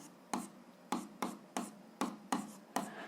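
Pen writing on paper during a seventh-grade algebra exercise: seven short, crisp scratchy strokes in an uneven rhythm, close and fairly quiet, with no voices.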